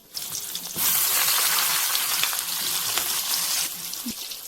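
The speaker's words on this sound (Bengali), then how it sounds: "মাছের পুর দিয়ে দেওয়া সেই পটলগুলো গরম তেলের মধ্যে দিয়ে দেবেন" Steady loud sizzling of fish-stuffed pointed gourds frying in hot oil, a bright crackling hiss that jumps up sharply and holds, with a few pops.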